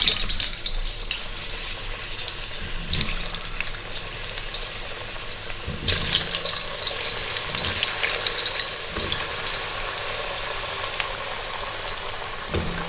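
Potatoes fry in a kazan of deep hot oil with a loud, dense, continuous sizzle and bubbling, broken by occasional stirring knocks, and no talking.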